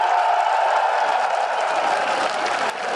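A large rally crowd at the start of Imran Khan's long march from Liberty Chowk in Lahore applauds and cheers in a dense, continuous roar that dips slightly near the end.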